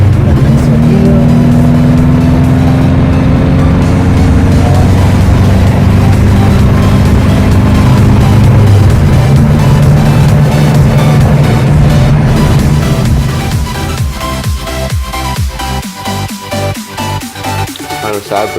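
A Volvo 122 Amazon wagon with a B20 engine runs loud and close, its steady rumble rising and falling with revs before easing to a quieter idle in the final seconds.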